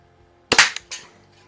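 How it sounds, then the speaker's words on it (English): A Crosman spring-piston BB gun fires with a sharp, fairly quiet snap followed by a short second crack, close by and alone with no talk. "It's very quiet, but it's very powerful as far as a spring piston BB gun."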